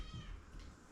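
A house cat gives a single short meow up close at low volume, with no talking over it.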